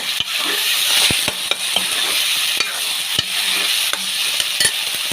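Tomatoes and curry leaves with rock salt sizzle steadily in a pan, loud and close, while a spoon stirs and scrapes with regular sharp taps against the metal.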